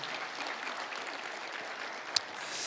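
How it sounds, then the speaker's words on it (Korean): Church congregation clapping in welcome, a moderate, even patter of many hands heard from a distance, with a single sharp click near the end and the applause swelling slightly at the close. "우리 박수로 환영하시겠습니다."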